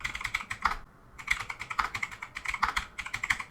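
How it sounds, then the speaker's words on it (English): Fingers type on a computer keyboard, producing quick, close runs of light key clicks with one brief pause before the typing resumes. "And now here type Google Docs dark mode."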